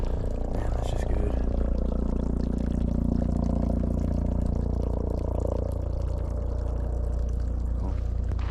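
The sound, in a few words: filling up a water bottle from a water source while backpacking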